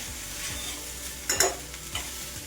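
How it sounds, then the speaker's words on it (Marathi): Soaked poha with green peas and potato being stirred and sautéed in a pan, a soft scraping with a few louder spatula knocks near the middle over a faint background sizzle, no voice. "आता आपल्याला हे परतून घ्यायचे आहेत।"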